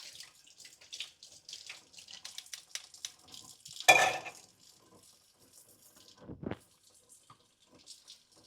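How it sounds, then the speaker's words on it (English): Hot water pours into a blender in a soft, splashing trickle, with a louder gush midway and a few faint kitchen clatters afterward. "Come use hot water in the blender."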